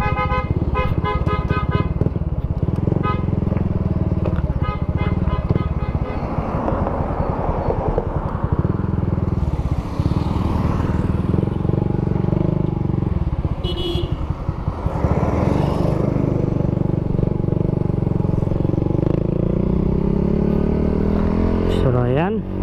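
A motorcycle fitted with a Taikom power pipe exhaust revs repeatedly, its engine note climbing and falling loudly up close, while a person talks over it.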